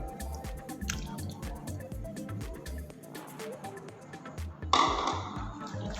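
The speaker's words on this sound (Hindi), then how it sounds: "तो दही हम और शामिल करेंगे।" Yogurt goes into a bowl of fruit chaat with a run of wet drips and squishy plops, moderately close, ending in a brighter clattering splash.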